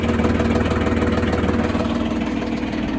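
A Fighter T-254 tractor engine idles steadily with a deep, continuous rumble and a low droning hum, close and loud throughout.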